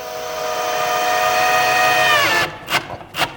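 Power drill driving screws to mount drawer slides in wood cabinetry: a loud sustained motor whine that drops in pitch as each screw seats, then stops, followed by two short bursts as further screws are driven.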